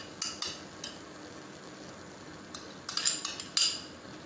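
Chopped onion is tipped into a bowl with a few light clinks and scrapes of a utensil against the dish, quiet and close, in two short bursts with a pause between.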